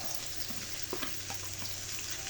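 Sliced ampalaya (bitter melon) fries with beaten egg in a pan, giving a steady close sizzle with a few soft stirring scrapes and taps.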